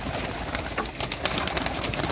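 Flight pigeons in a loft, a flock of 28 adults and 19 young birds, fill the air with dense, overlapping coos and rustling at close range, a steady busy murmur throughout with no talking.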